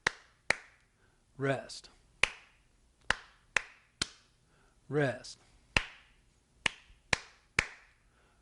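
Hands clap a bass line rhythm in a piano workshop, sharp single claps spaced in a steady counted pattern with gaps for rests, while a voice counts and calls out the rests between them.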